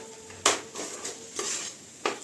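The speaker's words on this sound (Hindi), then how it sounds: "अब इसे चलाते हुए हमें अच्छे से सुखा लेना है।" A spoon stirs a spiced mixture in a pan to dry it out, with several scraping sweeps and clinks against the pan over a faint sizzle, close and moderately loud.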